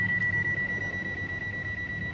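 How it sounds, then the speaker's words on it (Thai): Door-open warning chime of a 2005 Mazda 3 with the engine off and key removed, a steady high electronic tone pulsing rapidly and evenly, close and clear against faint background noise. "พอเปิดประตู เสียงเตือนได้ดังแบบนี้ครับ"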